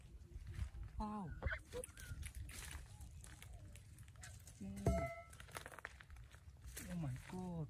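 Newly hatched yellow and black Pekin ducklings give a few faint, scattered calls, separated by soft rustling, while people talk quietly nearby.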